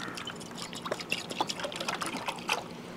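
Water trickles and splashes as it is poured into an anodized aluminum pot outdoors, a steady close-up gurgle with a few brighter splashes over about three seconds.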